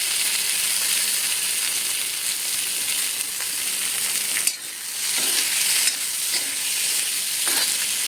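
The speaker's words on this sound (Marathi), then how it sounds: "आता मी याच्यामध्ये ह्या मिरच्या टाकते थोडेसे टोमॅटो भाजते" Onions, green chilies and tomatoes fry in a pan with a loud, continuous sizzle and hiss. Stirring causes a few brief dips and bumps in the sound, and there is no talking.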